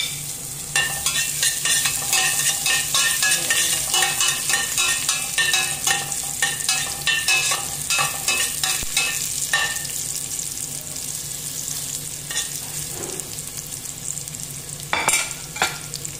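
Garlic fries in a pan for sotanghon, giving a continuous close crackling sizzle with frequent scraping and stirring strokes against the pan. No voices are heard.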